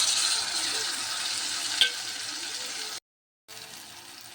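Tomatoes frying and sizzling with onions in a pan for a brinjal gravy, a steady close hiss with a brief stir, then a short cut to silence before the sizzle resumes.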